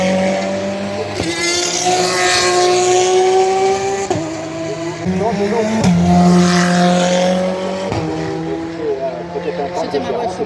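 Race car engines at the Le Mans 24 Hours race, with loud, sustained engine tones rising and shifting as several cars pass by close, under steady crowd and track noise, with a person speaking.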